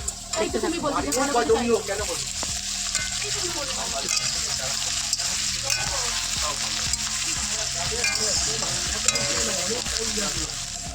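Onions frying in a pan, an ongoing sizzle with utensil scrapes and stirring knocks, while people talk over it close by.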